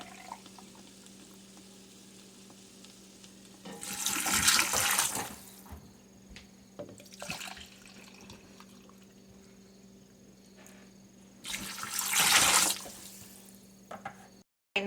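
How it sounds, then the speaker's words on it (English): Water is poured into a soup pot for stuffed pepper soup in a home kitchen, two loud splashing pours with a shorter burst between them against a quiet background hum. "So I'm going to start adding my water."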